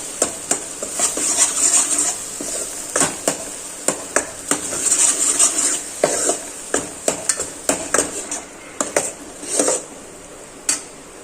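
Raw mango chutney being stirred in a pan with ghee and Kashmiri red chili powder: a series of sharp spoon-on-metal scrapes and clinks, uneven and close, with short pauses between the strokes.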